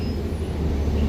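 Roosevelt Island aerial tram approaching in New York City, heard as a steady low mechanical rumble with a faint high whine over it, continuous and moderately loud in an outdoor setting.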